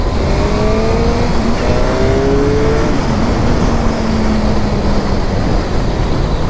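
A 2008 Suzuki GSX-R 750 sport motorcycle accelerates hard while ridden, its engine note climbing through rising gear pulls over steady loud wind rush, with no talk.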